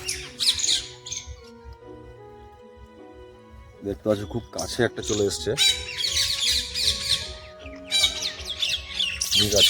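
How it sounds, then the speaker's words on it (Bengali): Macaws in the Bibhutibhushan Wildlife Sanctuary deer park give loud, harsh squawks in repeated bursts at close range, with a person talking between and over the calls. "আর এখানে রয়েছে কিছু ম্যাকাও"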